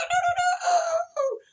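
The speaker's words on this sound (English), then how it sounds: "right when the rooster start on." A rooster crows at dawn, one loud, close cock-a-doodle-doo with a drawn-out middle and a falling tail, preceded by a few short clucks.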